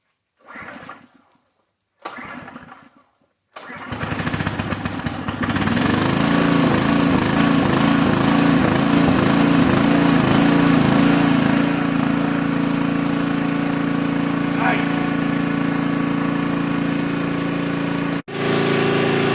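A small gasoline generator engine, salvaged from a junk pile, sputters through a couple of tries, then catches and runs loudly and steadily, with a brief cut near the end.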